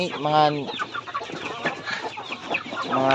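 Native chickens kept as backyard poultry cluck repeatedly and close by, with harmonic rising calls at the start and end and a busy run of short clucks and squawks in between.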